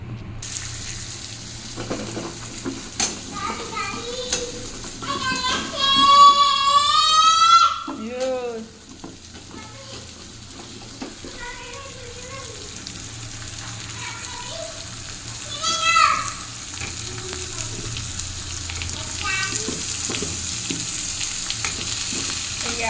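Dry red chillies frying in oil in a pan for a khichuri and fried brinjal meal, a steady sizzle running throughout with bursts of stirring and clattering, someone talking over it.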